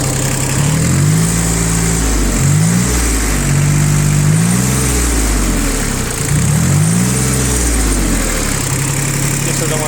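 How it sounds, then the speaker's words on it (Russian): An Iseki TU 1700 three-cylinder four-wheel-drive tractor with a rotary tiller runs steadily up close, its low, chugging engine note rising and falling in pitch with throttle changes. "Очень прилично двигатель себя ощущает. 3 цилиндра, Исеки."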